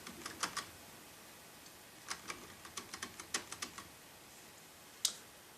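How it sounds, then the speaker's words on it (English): Computer keyboard arrow and space keys pressed while playing Space Invaders, quiet scattered clicks in small clusters with gaps, one sharper tap near the end, close and faint. "I have the arrow keys to move around and my space key to take out Space"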